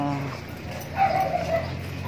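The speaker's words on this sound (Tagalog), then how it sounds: "Nakagat si Bogart ng pitbull" A dog barks and whimpers during a pitbull attack in a crowded vaccination setting, a brief sharp yelp rising over a busy murmur of voices and other dogs.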